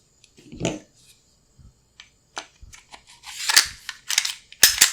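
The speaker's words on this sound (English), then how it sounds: "Drop your recoil spring back in." A Sig P226 pistol being reassembled gives off a series of sharp metallic clicks and snaps as the recoil spring and parts are dropped in and fitted. The sounds are close and irregular.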